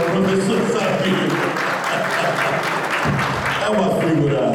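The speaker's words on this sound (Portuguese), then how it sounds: "Salva de palmas para a figura que é o professor Sabino." Audience applauding for a professor at a debate event, dense continuous clapping with voices talking and calling out over it.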